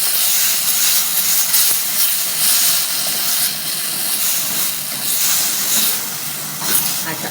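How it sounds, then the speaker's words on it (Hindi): Garlic sautéing in a hot pan for chicken Manchurian gives a steady, close hiss of frying that holds evenly throughout, with no voice over it. "अब अच्छे से सौते कर लूँगी मैं।"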